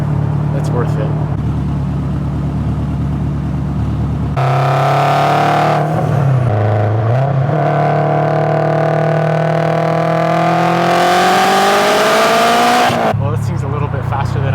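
An ethanol-fuelled car with a rebuilt engine accelerates hard, its engine note climbing loud and steady for about ten seconds after a brief idle, dipping once before rising again.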